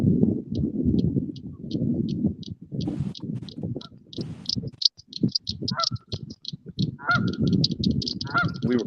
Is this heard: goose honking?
yes